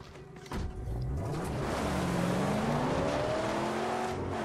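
Car engine in the Mad Max video game revving up and holding a loud, steady roar, its pitch climbing and sliding continuously over several seconds, with no voices.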